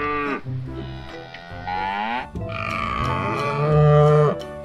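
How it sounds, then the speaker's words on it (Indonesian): Long-horned cattle in a video game give deep, drawn-out moos, two or three loud bellows in close succession with groaning low tones, heard alone and near. "Wow, ada sapi tanduk panjang."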